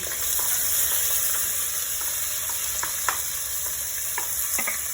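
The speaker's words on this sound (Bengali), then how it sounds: "পেঁয়াজ দিচ্ছি" Onions sizzling steadily in hot oil in a pan for a Sylheti-style meat curry, a continuous close frying hiss with occasional sharper crackles and stirring clicks, no talking.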